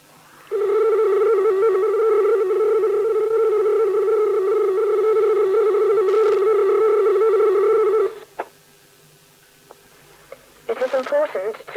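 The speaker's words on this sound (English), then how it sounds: "The 75 bits per second supervisory channel on both the Daytel 600 and 2400 services sound like this." A 75 bits per second supervisory channel tone from the British Datel 600 and 2400 data services, a steady buzzy multi-harmonic line tone lasting about seven seconds alone, then stopping with brief clicks and faint noise after.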